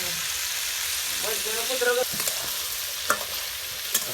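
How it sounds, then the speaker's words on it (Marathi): Steady hiss of potatoes frying in oil in a wok over a wood-fired chulha, with a few brief scraping stirs and faint voices in the background. "आधी कढईमध्ये तेल नव्हतं टाकलं थोडं फ्राय करून घेतलं आता तेल टाकले कढईमध्ये"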